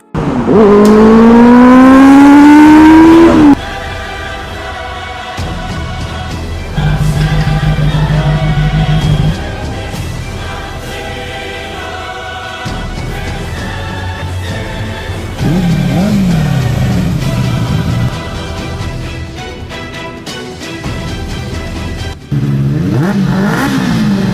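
A Bajaj Pulsar RS 200 motorcycle is ridden through streets, the engine revving loud and rising through gears, dropping and climbing again in repeated bursts with shifts and brief lulls, close to the microphone.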